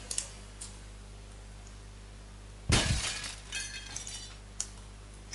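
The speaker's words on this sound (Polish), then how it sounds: "rozbijesz to szkło" Glass shatters loudly in the video game Happy Wheels, a sudden burst of breaking and tinkling shards midway through, followed by a few scattered clinks and ticks over faint background game sounds.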